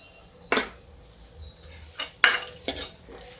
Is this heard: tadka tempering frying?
yes